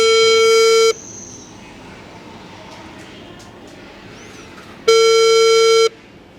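A steady electronic telephone busy tone plays twice, about a second each, separated by a quiet stretch of faint background hiss and clicks.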